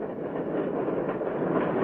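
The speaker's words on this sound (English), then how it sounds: "There goes the fast freight train from Kansas City to Chicago." A Santa Fe fast freight train bound from Kansas City to Chicago rolls past a gate with a steady, close, continuous rumble and rattle of cars.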